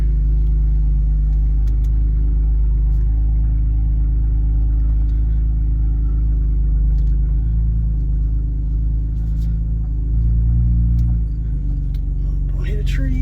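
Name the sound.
car driving in reverse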